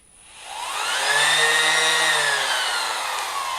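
A Ridgid GenX5 18V cordless sander whirs up from silence with a slow soft start, its motor pitch rising smoothly and then holding at a steady, loud hum.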